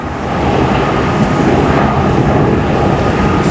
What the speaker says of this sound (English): Airplane over there because we're at the airport.